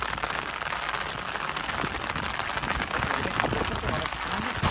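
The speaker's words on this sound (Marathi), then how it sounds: "अचानक आलाय तो जाम पाऊस." Heavy rain pours suddenly during a riverside fishing outing, a dense, loud, continuous hiss of water striking surfaces that stays steady from start to finish.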